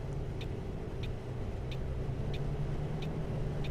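A Neoplan Skyliner double-decker tour bus in Tourist Bus Simulator drones with a steady, continuous low engine rumble, joined by faint, evenly spaced high ticks repeating about every two-thirds of a second.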